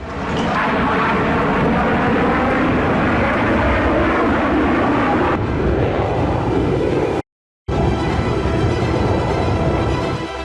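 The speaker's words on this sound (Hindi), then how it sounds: "B-2 बॉम्बर सहित F-18 जैसे अमेरिकी लड़ाकू विमानों ने यमन के ऊपर" US military aircraft, a B-2 bomber and F-18 fighter jets, producing a loud, continuous roaring jet rumble close by, with a sharp shift partway through and a brief cut to silence before the roar resumes.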